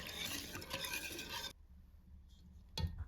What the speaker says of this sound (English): gradually pour 750 milliliters of milk into the dry ingredients, stirring it with a whisk to prevent lumps